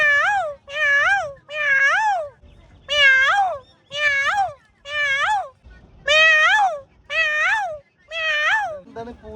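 A human voice imitates the crying of a cat about to give birth. About ten drawn-out, wavering meow-like wails come in a steady series, loud and close, with short pauses between them.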